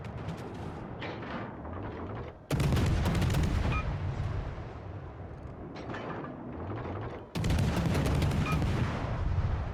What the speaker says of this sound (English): You can see the shells are slow and I need to shoot very much forward